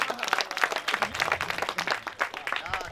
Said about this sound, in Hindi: एक मर्तबा तालियां बजा दीजिए आप।